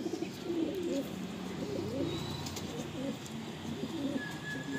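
Madrasi pigeons cooing softly in a loft kept for sale, low murmuring coos repeating steadily over a constant background hum.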